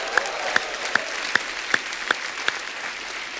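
A studio audience on the Kapil Sharma Show applauds steadily, a hissing wash of clapping broken by regular sharp accent beats about every 0.4 seconds, loud and close.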